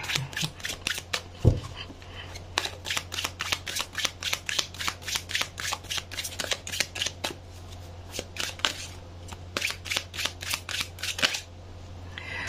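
Tarot cards being shuffled by hand in a long run of quick, crisp riffling bursts, close and steady, with a brief thump near the start and no talking.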